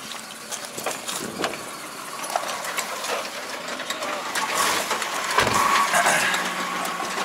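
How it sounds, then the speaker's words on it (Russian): A Mitsubishi Pajero iO engine idles nearby with a slightly uneven, misfiring rumble at low revs, while someone talks over it. "Чуть на низах подтраивает мотор, но это надо смотреть свечи."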